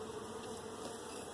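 Honey bees buzz steadily around a hive frame during honey pulling, a dense continuous hum close by with no talking.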